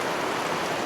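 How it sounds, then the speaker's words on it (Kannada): Heavy rain pours down at a hilltop temple in Kangra, a dense, loud, unbroken hiss of water that fills the whole moment. "ಛತ್ರಿ ಇಟ್ರು ನೆಂದೋಗ್ತಾ ಇದೀವಿ, ಹಂಗ್ ಹೊಡಿತಿದೆ ಮಳೆ"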